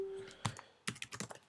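Keystrokes on a computer keyboard typing a short word while setting up text in Cinema 4D; a few isolated clicks, then a quick burst of light, close taps, faint and with no talk.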